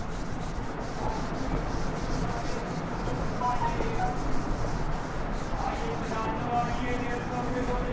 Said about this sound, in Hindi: देखिए मैं रब कर रहा हूं ऊपर वाले